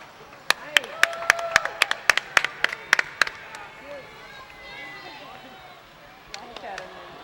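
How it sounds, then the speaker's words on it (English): Community day crowd bursts into a quick run of sharp hand claps that fades after a few seconds, while a voice carries on over a PA beneath and a few scattered claps return near the end. "let's give a big round of applause for decorating the bus."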